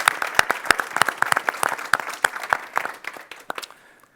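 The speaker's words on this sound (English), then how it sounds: "let's also have a round of applause for our unscripted panelists here" Audience applause for panelists at an academic symposium, a brisk mix of sharp individual claps and a clapping crowd that thins out and stops near the end.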